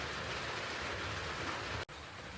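Rain falls steadily outdoors in a rural village setting, a dense even patter with a brief dropout near the end, no voices.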